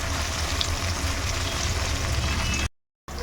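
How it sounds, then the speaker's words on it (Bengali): Paneer pieces fry in hot oil with a dense, constant sizzle heard close and fairly loud, then a short gap of silence before the bubbling resumes briefly. "তো পনিরগুলোকে বেশিক্ষণ না দু মিনিট মতন ভেজে নেব একটু কালার আসা অবধি"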